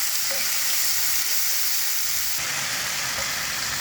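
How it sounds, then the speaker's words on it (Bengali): Garlic paste fries in hot oil with onion, a loud, close, continuous sizzle with faint stirring scrapes and a brief surge partway through. "রসুনটা কিন্তু অবশ্যই ভালো করে ফ্রাই হবে।"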